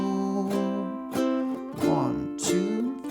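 A ukulele strums the chords of the second line of a song, with four distinct strummed chords ringing out one after another at a relaxed pace, close and clear with no talking.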